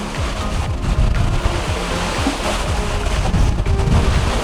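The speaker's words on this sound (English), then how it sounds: "The only thing you can hear is the water hitting the boat." Water slapping and rushing against the hull of a solar-powered yacht off Mallorca, a steady close wash of splashing with no voices.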